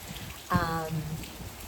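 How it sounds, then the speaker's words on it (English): Soft, steady patter of rain heard faintly in the background, with a brief voiced sound partway through. "Oh, Chloe, loved hearing the rain in the background."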